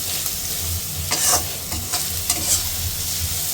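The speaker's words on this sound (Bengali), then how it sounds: "কাঁচা মাছটি ভেজে নেবেন" Raw fish fries in a pan with a steady close sizzle, broken by several sharper crackles and scraping stir sounds, with no voices.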